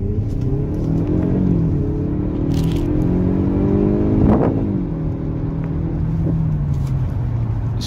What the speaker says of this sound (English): This Kia Stinger's a nice car.